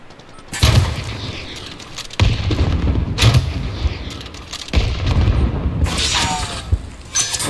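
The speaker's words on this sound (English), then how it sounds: "I'm under fire" Heavy gunfire and booming shots from a video game battle come in several loud bursts separated by short lulls, close and punchy, with mechanical clatter between.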